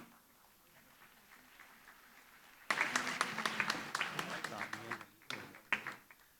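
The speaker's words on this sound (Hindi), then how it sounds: "तालियां फिर ठंडी हो गई।" Thin, scattered audience applause at a felicitation ceremony for students selected in JEE and NEET, a brief patter of claps that rises suddenly and then fades unevenly, with a speaker's voice heard beforehand.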